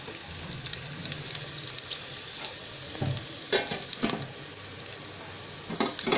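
Chickpeas fry in a pan with a steady soft sizzle, broken by a few scraping stirs and clatters of a spoon, heard alone without talk.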